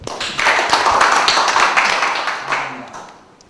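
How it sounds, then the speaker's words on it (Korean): Audience applause at a policy forum in a National Assembly hall, a dense burst of clapping that swells quickly, holds, then thins and fades out toward the end. "박수 한번 부탁드립니다."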